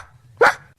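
A single short, close dog bark sounds sharply against a quiet background with a low hum.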